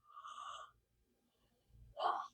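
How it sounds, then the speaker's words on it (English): A short voiced burp-like gulp near the end, after a brief breathy exhale and a quiet pause; close and fairly soft, with no talking. "I clear through my body through yawns and what sounds like a burp"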